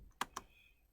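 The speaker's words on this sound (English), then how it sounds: "So I'm typing ping" Two quick, crisp keystrokes on a computer keyboard, close and quiet, in an otherwise hushed room.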